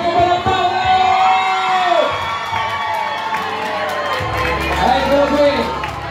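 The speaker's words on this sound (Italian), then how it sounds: "Facciamo un bel applauso!" A crowd cheers and whoops at an in-store appearance by a singer in a shopping centre, loud and sustained with shouting voices and some children's yells, while an amplified voice speaks over it.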